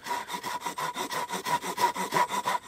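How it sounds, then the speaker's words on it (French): A hand saw cuts the cheeks of a wooden tenon in a fast, even back-and-forth rhythm of about a dozen rasping strokes, close and clear with no talk. "Donc il suffit de scier, de délimiter vraiment l'emplacement et de scier de chaque côté de manière parallèle."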